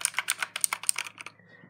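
A quick, steady run of clattering keystrokes on a computer keyboard, close up and crisp, thinning out near the end to a few final taps, with no voices.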